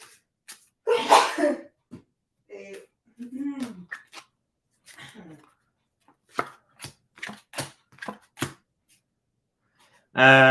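A single loud, sharp sneeze bursts out early, followed by scattered quiet talking and small clicks.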